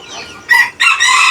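A slate-coloured aseel rooster crows loudly and close by, two strong bursts of its call with a brief break between them.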